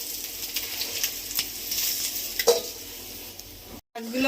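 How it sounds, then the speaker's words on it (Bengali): The remaining shing fish fry in a pan of hot oil, giving a constant crackling sizzle with a few light clinks of stirring and no voices. "বাকি মাছগুলো ভেজে নেব"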